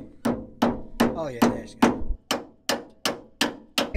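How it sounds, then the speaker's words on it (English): A hammer drives a part into an old fire truck with about ten sharp, evenly spaced blows, close and loud, while a voice speaks briefly between strikes. "We'll hammer it in a little bit."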